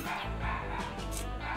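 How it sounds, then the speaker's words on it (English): A pet dog barks in the background with short repeated yips and woofs over a dense, steady layer of video game music and sound, with no voices. "I hope no one can hear my dog barking in the background"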